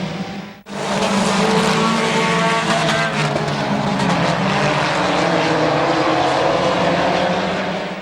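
Compact race cars roar around the Midvale Speedway oval in a dense, continuous engine drone, loud and steady after a brief dip near the start, with no voices over it.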